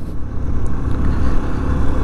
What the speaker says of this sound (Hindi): 150 cc गाड़ी होने के बावजूद यामाहा FZ जो है मेरी सबसे पुरानी वाली मॉडल FZ है, काफ़ी अच्छे परफॉर्म कर रही है